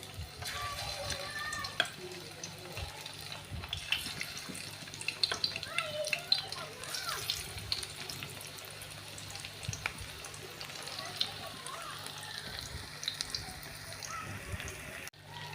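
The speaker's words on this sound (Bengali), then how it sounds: "বন্ধুরা আমি এই টিকাগুলো আস্তে আস্তে ভেজে নিব" Chicken tikka pieces fry slowly in oil, giving a steady, moderate crackling sizzle throughout with faint voices now and then in the background.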